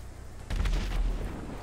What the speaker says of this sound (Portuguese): eu dei um tiro nele